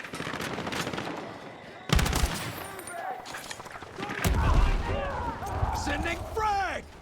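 Automatic weapon fire rattles in loud bursts during a Battlefield 6 battle, with a heavy blast around two seconds in and another burst near four seconds, amid shouting soldiers and combat noise.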